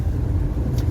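A Peugeot 2008 engine accelerating from low revs, a steady low rumble heard from inside the car with no talking.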